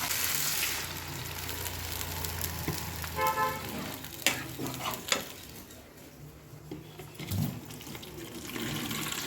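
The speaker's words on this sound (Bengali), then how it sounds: "ঝোলটা দিয়ে দেবো।" Gravy is poured into a pan of hot spice masala, hissing and sizzling with watery splashes and stirring, close by, with some faint background noise.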